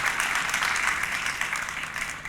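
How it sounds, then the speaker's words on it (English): A crowd at an achievement celebration ceremony applauds steadily, a dense wash of clapping that holds at an even level and tapers slightly at the end. "Can we just have another round of applause for that powerful,"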